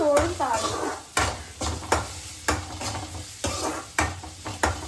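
Spices tempering in hot oil in a pan for a simple rice dinner, a steady crackling sizzle broken by sharp, regular stirring knocks of a utensil against the pan, with a brief voice near the start.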